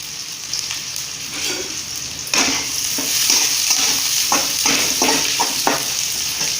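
Chopped big onions hit hot oil with mustard seeds for drumstick leaf poriyal. A mild sizzle jumps louder partway through, then continues under scattered clacks of stirring.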